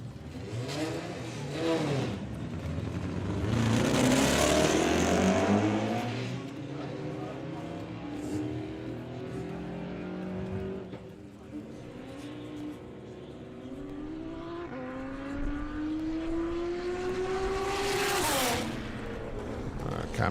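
A 6-cylinder drag racing car launches and accelerates down the strip at a doorslammer event, its engine revving up in rising surges and gear changes, loud and fairly near, with speech over parts of the run.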